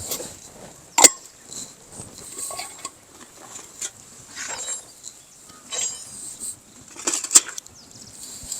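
Steel spoons and thali plates are handled and set down, giving scattered light clinks and a few sharper clangs among soft rustling, fairly faint and close, with no talk.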